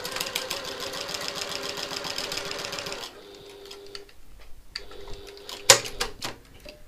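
A sewing machine stitches bag handles in a fast, rattling run that stops after a few seconds. Quieter mechanical whirring and handling noises follow, then a single sharp click.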